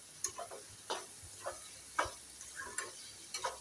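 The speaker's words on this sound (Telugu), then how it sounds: "ఒక 1/2 స్పూను వేసి ఇలా బాగా కలుపుకోవాలి." Ginger garlic paste is stirred in a pan for a carrot and capsicum fry, with soft, regular scraping taps of the spoon over a faint, quiet sizzle.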